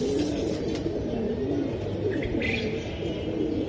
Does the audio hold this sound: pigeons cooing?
yes